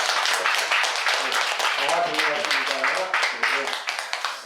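An audience at a Buddhist dharma talk claps together in a dense, steady round of applause that runs the whole stretch and slowly fades, with someone speaking over it.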